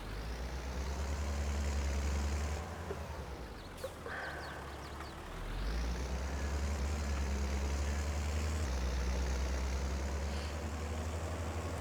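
Farming Simulator 22 tractor hauling a trailer, a steady low engine drone and rumble that dips briefly mid-way then resumes, continuous and fairly close with no talk.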